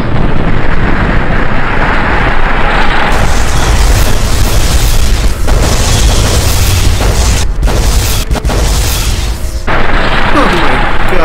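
Heavy gunfire and booming blasts from Fallout: New Vegas run dense and loud throughout, with brief gaps near the end.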